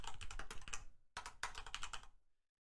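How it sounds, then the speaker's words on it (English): Fast typing on a computer keyboard, close and steady, with a flurry of keystrokes, a brief pause, then another burst that trails off into silence. "Let me just type it in here."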